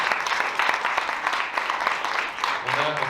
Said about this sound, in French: je vais vous demander d'applaudir les intervenants